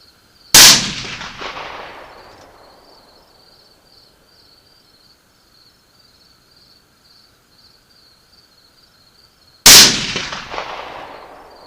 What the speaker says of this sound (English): I just took 2 shots with my 20-inch barrel 300 Win Mag, and I shot some pretty hot loads, some Barnes LRX